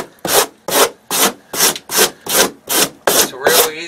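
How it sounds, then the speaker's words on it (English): A rasp smooths carved foam after wire brushing, shaping a haunted house room prop: eight steady, evenly spaced scraping strokes, close and loud, with short gaps between them. "after I go with a wire brush, I come back and smooth it out with a rasp."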